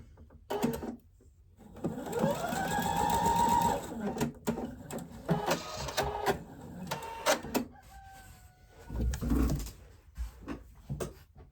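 A sewing machine runs in quick bursts while stitching fabric pieces for a quilt block, its whirring motor starting and stopping between short pauses, with faint clicks and handling sounds in a quiet room.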